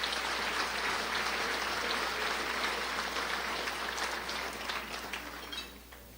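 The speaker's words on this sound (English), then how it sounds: "let's give them a round of applause for being our gold sponsors" Audience applause for gold sponsors at the 2019 Crown Point State of the City event, a steady wash of clapping from a room of people that holds for several seconds and begins to thin toward the end.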